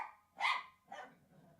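A dog gives two sharp barks in quick succession, close and fairly loud, followed by a softer low grumble, with no talk over it.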